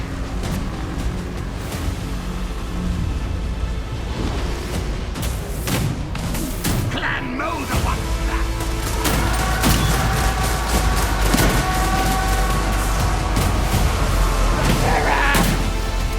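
Skaven warp gunners unleash repeated volleys in a Total War: Warhammer 2 battle against High Elves, a dense din of cracking shots, booms and crashes layered over continuous battlefield noise and music, loud and busy throughout.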